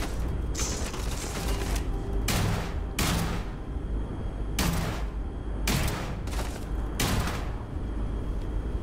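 Laser weapon fire in Starfield, about seven sharp bursts at irregular intervals over a constant low background hum of the game.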